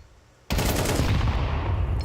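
Gunfire in a Counter-Strike match, erupting abruptly into a loud, dense burst of shots that continues without pause.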